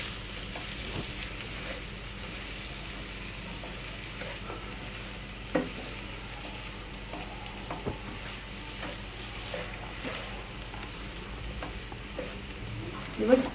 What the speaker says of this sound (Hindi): इसको भी हम अच्छा सा मिक्स करेंगे।